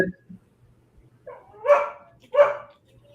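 A dog indoors gives two close, sharp barks in quick succession after a brief quiet moment.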